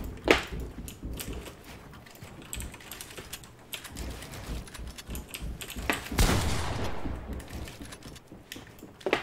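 Gunfire in the Fortnite video game during a one-on-one match, with rapid bursts of shots and impacts mixed with keyboard and mouse clatter, loud and busy throughout.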